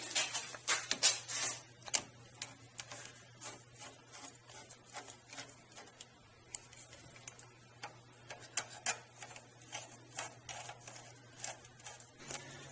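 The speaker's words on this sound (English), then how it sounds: "All it requires is unscrewing a couple of these little clamps." Small hose clamps being unscrewed from a car hose during exhaust manifold removal, a quiet run of irregular clicking and ratcheting ticks against a steady low hum, close and faint.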